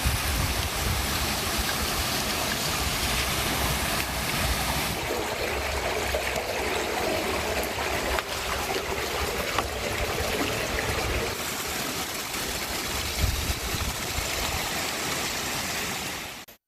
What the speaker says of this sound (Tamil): மண் சரிவு ஏற்பட்ட தடத்திலிருந்து தொடர்ந்து தண்ணீர் கொட்டியதால் பொதுமக்கள் அச்சத்தில் உறைந்தனர்